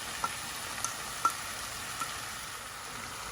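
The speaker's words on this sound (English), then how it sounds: "The mushrooms go in too, and we cook all of this for a few minutes." Mushrooms, onions and bacon cook in a pan, giving a faint, steady sizzle with a few soft clicks and taps, no talking.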